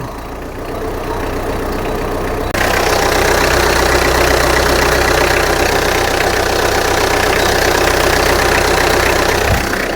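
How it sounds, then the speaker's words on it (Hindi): The 1400 cc diesel engine of a 2008 Tata Indica V2 idles with the bonnet open, a steady close rumble with a rattly diesel clatter that grows louder after a few seconds and holds evenly. "अगर मैं डीजल इंजन की साउंड बोलूँ तो जैसे मैंने बोला कि साउंड तो है"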